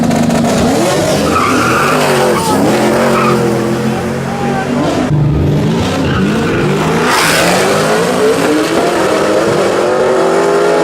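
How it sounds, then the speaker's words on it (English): Street racing cars skidding and revving at a large illegal meet, loud screeching tires over roaring, rising engines, continuous and close, with crowd voices mixed underneath. "No. This is street racing."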